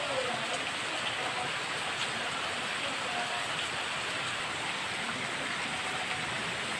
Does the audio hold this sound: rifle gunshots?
no